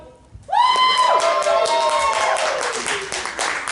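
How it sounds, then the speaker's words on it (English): A small club audience at a Friday cabaret night bursts into cheering, whoops and clapping after a brief quiet start, loud and close, with excited shouts over the applause. "Thunderous applause."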